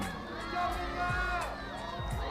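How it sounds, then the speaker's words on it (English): Crowd noise and cheering at a kids' Strider balance-bike race at the Waikato Region Champs, a steady busy wash of voices with shouts rising and falling, a few nearby calls cutting through. "Great to hear the crowd getting in behind our Strider riders."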